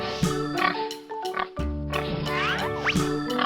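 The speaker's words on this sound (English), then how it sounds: "It is a pig." A pig oinks amid a cartoon farm-animal soundtrack for kids, with grunting calls over bouncy music and playful sound effects, fairly loud throughout.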